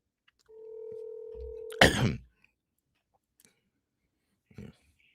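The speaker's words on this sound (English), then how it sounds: "Right now, we're dialing." A telephone tone sounds for about a second before a burst of handling noise or breath, followed by near silence and a faint brief noise.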